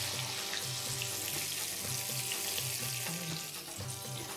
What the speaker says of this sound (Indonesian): Saya nak goreng sikit.